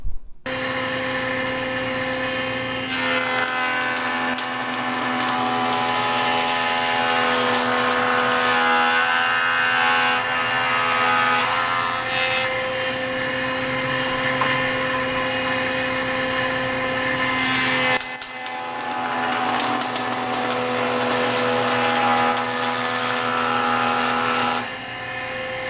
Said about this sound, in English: we're going to use our joiner